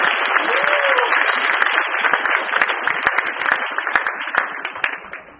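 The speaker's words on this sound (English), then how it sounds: "Please give a big round of applause." A crowd gives a big round of applause at a product launch event for a cholesterol supplement, loud close clapping with sharp individual claps throughout and a brief tonal squeal early on, tapering at the end.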